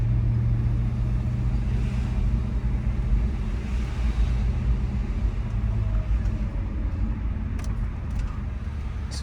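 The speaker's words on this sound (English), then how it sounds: "I'm gonna drive it very slow." An Audi S4 crawling along very slowly, giving a steady low engine rumble and road noise from inside the car, quiet and even throughout with no revving.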